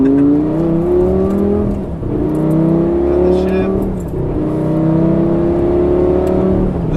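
A naturally aspirated, non-turbo Lamborghini Gallardo engine revs loud and close, its pitch rising and dipping through repeated surges over a constant mechanical roar, with no talking.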